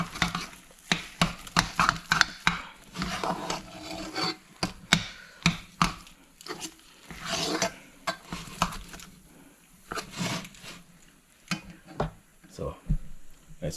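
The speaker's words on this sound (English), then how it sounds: "Let's do some stirring here" A spoon scrapes and stirs through a milk mixture in a pot for a Diwali sweet, with irregular rubbing strokes and soft clatter, while a person talks at times.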